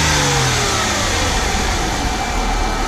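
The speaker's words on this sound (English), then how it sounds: "I'm going to hit different RPM ranges." A Mercedes E320 W210 with the M112 engine revs steadily and loudly close by, a sustained mid-pitched engine hum holding through the short stretch with no talk.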